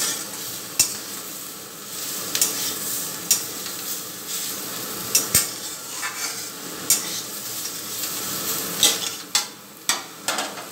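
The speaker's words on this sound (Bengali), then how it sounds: "এখন কিন্তু লবণ হলুদ দেবো না, এখন কিছুক্ষণ ভাজবো" Vegetables sizzle in oil in a pan, with a steady frying hiss and repeated sharp scrapes and taps of a spatula stirring against the metal, close and alone.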